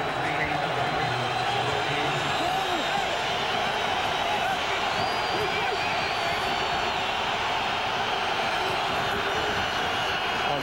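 A stadium crowd at an NFL game between the New York Jets and Oakland Raiders roars as a constant dense wash of noise under a broadcaster's play-by-play commentary.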